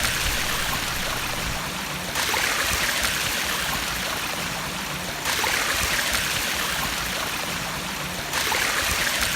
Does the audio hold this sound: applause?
no